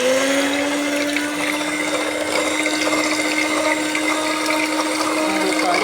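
A beater whips cow butter and oil together for soap making, producing a steady, continuous motor whine with a constant high-pitched tone that runs unbroken throughout, close and fairly loud.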